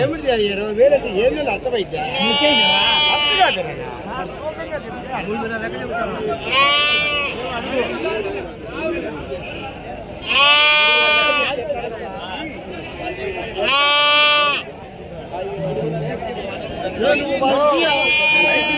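Sheep bleat loudly and repeatedly at a busy outdoor livestock market, with several long, wavering calls rising over constant chatter and bargaining voices.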